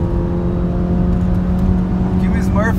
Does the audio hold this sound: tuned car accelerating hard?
yes